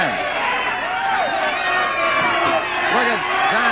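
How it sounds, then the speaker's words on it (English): A 1976 Detroit Big Time Wrestling arena crowd roars in a steady, dense wash of cheering that never lets up, with a commentator talking over it throughout. "And the fans are cheering."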